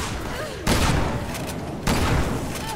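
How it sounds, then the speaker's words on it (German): Two heavy gunshots from the survival-horror game Resident Evil 6, each a sudden loud broadband blast about a second apart, with a sustained roar of echo and ambience behind them. "Nein, ein Schuss abgegeben"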